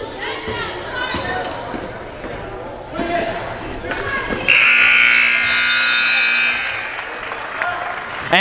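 A long electronic buzzer sounds at a high school girls' basketball game between Rochester and Peru, blaring for about two seconds over crowd noise and a commentator's voice.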